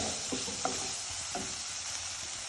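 Maggi masala rice roasting in a pan under continuous stirring, a soft steady sizzle with a few light scraping taps.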